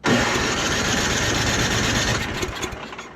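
A rebuilt snowblower engine runs close and loud with more throttle, a busy, rattling small-engine drone that holds steady before fading slightly and turning uneven at the end.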